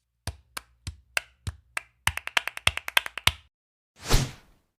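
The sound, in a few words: flamenco hand clapping (palmas) for sevillanas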